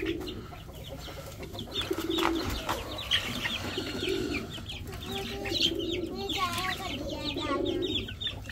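Soft, repeated throaty cooing from several pigeons, close by, mixed with clucking birds and low background chatter.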